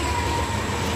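Freight train cars carrying semi-trailer truck containers rumble past in a steady, moderately quiet drone, with a faint whine above the low rolling noise.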